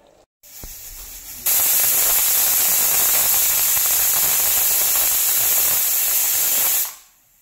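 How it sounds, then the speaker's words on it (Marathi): A pressure cooker on medium flame letting off a loud, steady hiss of steam that starts abruptly, holds for several seconds, then fades away. "इथे कुकरला झाकण लावून इथे आपल्याला 2 शिट्ट्या काढून घ्यायच्या आहेत मीडियम फ्लेमवरती"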